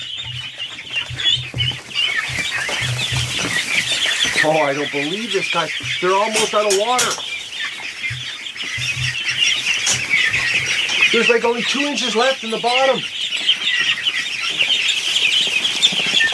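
Muscovy ducks call in a few short bursts from inside a pen, mid-distance, under steady broadband noise, while someone talks over them.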